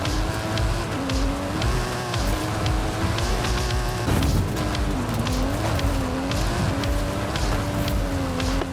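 A Mike Steel Special stunt car with a custom engine and suspension, driven in Forza Horizon 5, powers uphill with a continuous wavering engine drone and tire noise, loud and close throughout.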